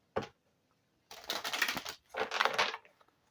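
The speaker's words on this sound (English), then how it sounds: "While shuffling the cards," Tarot cards being shuffled close up, one quick snap followed by two longer riffling bursts of papery flutter with a short pause between them.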